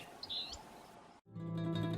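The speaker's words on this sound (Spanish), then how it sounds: "una bandurrita esteparia, un furnárido típico de la Patagonia" Band-tailed earthcreeper calling in Patagonia, a short rising chirp that sounds faint, with further bright call notes after a brief cut.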